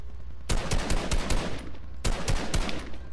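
Fortnite gunfire crackles in two loud, close bursts of rapid shots, the first a longer string of quick reports and the second a shorter volley after a brief pause.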